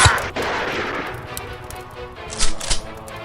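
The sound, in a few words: gunfire in a radio drama battle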